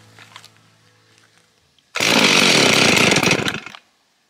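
A Stihl 038 chainsaw is pull-started with the choke on: after a quiet lead-in, it fires and roars loudly up close for almost two seconds, then cuts out abruptly.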